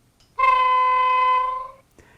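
Single high-pitched horn blast from a sound-fitted Accurascale Class 31 model diesel locomotive, a steady tone held about a second and a half before cutting off, loud and close with no talking.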